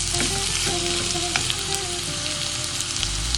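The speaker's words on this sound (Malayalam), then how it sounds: "ഇതെല്ലാം കൂടെ നല്ലപോലെ ഒന്ന് മൂക്കണം." Ingredients for a Kerala ginger curry sauté in a hot pan with a steady close sizzle and occasional stirring scrapes, no talking.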